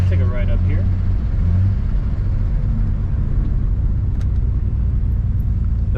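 A vintage Nissan car on the move, heard from inside as a loud, steady low rumble of engine and road noise, with a voice briefly speaking at the start.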